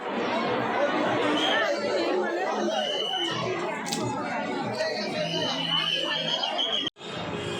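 A large, dense crowd of devotees at the Pune Ganesh festival, with continuous close chatter and babble throughout and a brief drop near the end.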